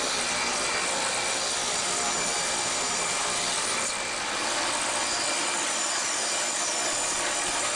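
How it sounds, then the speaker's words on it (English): Woodworking machine flattening a walnut board to two parallel faces, a continuous loud broadband roar with a brief dip midway and no speech. "Now I'm just cleaning up this piece of walnut so that it has two flat parallel surfaces"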